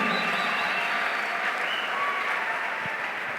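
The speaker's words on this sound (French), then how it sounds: "Acclame Jésus." Applause from a church congregation during a sermon, a dense, even clapping that holds steady throughout at moderate distance, with no speech over it.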